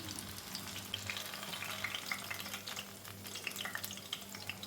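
Banana fritters (pazham pori) bubble in hot oil, making a soft, steady crackling sizzle with small pops over a low background hum.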